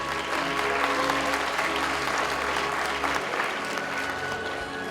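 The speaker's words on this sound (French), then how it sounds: "On applaudit très très fort." Audience at a film and video awards ceremony for young talent applauding steadily for a trophy presentation, dense continuous clapping heard from within the hall, moderately loud throughout.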